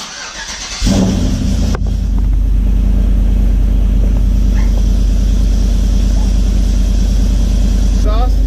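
A 1993 OBS truck with an LS engine swap and electric exhaust cutouts roars to life about a second in, then its exhaust rumbles loudly and steadily, a deep continuous drone close by.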